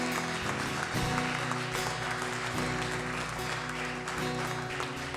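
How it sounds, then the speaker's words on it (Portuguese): A church congregation claps steadily together over sustained, held keyboard chords during a worship service, with a loud, continuous wash of applause throughout. "Aplaude ao Senhor mais uma vez."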